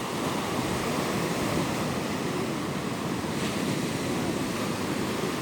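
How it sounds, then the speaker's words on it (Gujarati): Sea water laps slowly at the shore while people fish, giving a steady, moderately loud wash of surf mixed with wind buffeting, with no voices. "જો અહીંયા પાણી હાલે ને એમ ધીમે"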